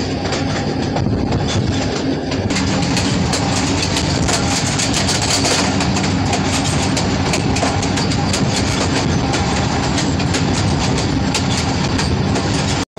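A passenger train runs toward Golra railway station on the Rawalpindi to Taxila line, loud and close, with steady rumbling wheels and rhythmic clickety-clack over rail joints throughout.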